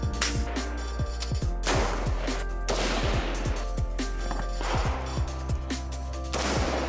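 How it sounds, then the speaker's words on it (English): Howa rifle chambered in .300 Win Mag fired at a range, with a series of loud, sharp reports and rolling echoes repeating every second or so across the stretch, heavy low rumble beneath. "Let's start putting some groups down range and see how it shoots."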